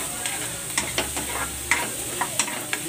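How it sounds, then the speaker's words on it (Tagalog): Ingredients sauté in a hot frying pan for a fish soup, sizzling steadily under a low hum while a utensil scrapes and clacks against the pan in irregular sharp knocks, close and fairly loud. "igigisa ko ito hanggang sa mag-brown para mabango yung"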